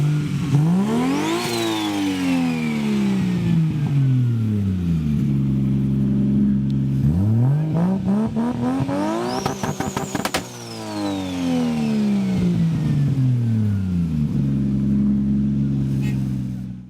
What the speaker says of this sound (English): in the number one spot, we've got another T51R car that sounds pretty much perfect in my opinion